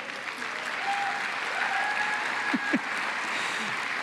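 Conference audience applauding a plenary speaker, a steady dense crackle of many hands that holds at an even, moderately loud level throughout, with a faint voice heard briefly under it.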